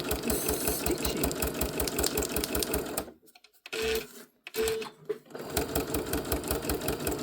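Sewing machine stitching fabric scraps into handmade tags, a fast rhythmic chatter close by that stops briefly for a few seconds with short bursts in between, then resumes at a steady pace.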